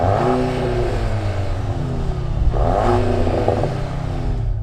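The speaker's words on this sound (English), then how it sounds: "let's go into neutral and just give the exhaust a little rev" A 2024 Audi S3 engine revs up and falls back twice while stationary in neutral, its new performance exhaust rising to a throaty roar before settling to idle.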